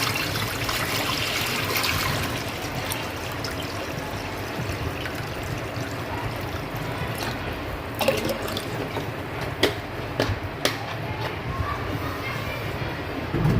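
Water pours steadily into a pressure cooker sitting on a stovetop burner, a continuous broadband trickle and splash with a few louder clinks toward the end, close and alone.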